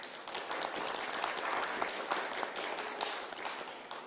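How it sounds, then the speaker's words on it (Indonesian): Applause at a public debate for Magelang's 2020 mayoral and deputy mayoral candidates, a steady wash of many hands clapping that holds evenly throughout with no one speaking over it. "Tepuk tangannya mana?"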